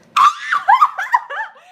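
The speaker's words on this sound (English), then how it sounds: "I'll scream cry" A woman bursts into a loud, wavering scream-cry that breaks into several rising and falling sobbing wails, close and alone, fading at the end.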